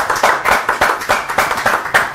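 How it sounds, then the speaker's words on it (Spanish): Studio audience and hosts give a round of applause for a guest musician after she plays a cajón, loud rhythmic clapping close by, roughly steady beats with a lively pulse. "un aplauso para Gisela Yurza"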